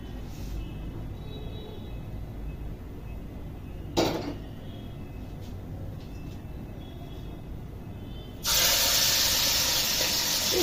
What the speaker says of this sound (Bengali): মাছ ভাজতে গেলে না আমার একটা জিনিস ভীষণ ভয় এই যে ধুমধাম করে ফোটে